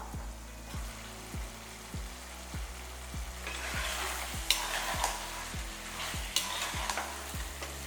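Masala and curd for veg biryani sizzle in a pan while being stirred, a continuous frying hiss broken by regular scraping strokes of the spoon, close and clear with no speech.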